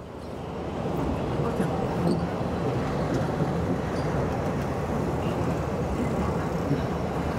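A tourist train rolls past at the River Kwai bridge in Thailand, giving a steady, loud, broadband rumble of wheels and carriages that holds constant for the whole stretch, with no clear voices over it.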